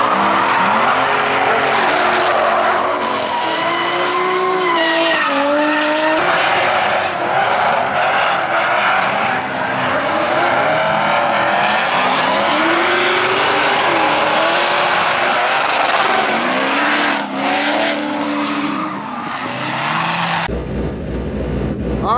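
Drift cars at a Drift Indy season opener tearing around the track, with roaring engines rising and falling and long tire squeals layered over one another, loud and continuous throughout, ending in an abrupt cut near the close.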